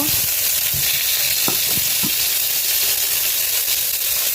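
Eggplant pieces frying in oil for a fish kalia, giving a loud, steady sizzle throughout, with a few soft clinks of stirring near the middle.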